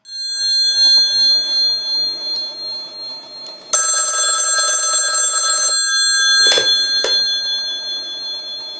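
A telephone rings loudly on a call-in radio show, a sustained electronic ring burst lasting about two seconds, followed by a couple of sharp clicks, over a steady tonal background hum.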